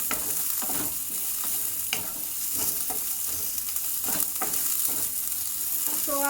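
Cabbage roasting in a pot on a gas stove gives a constant loud sizzle, punctuated by regular scraping stirs throughout, close up with no talking.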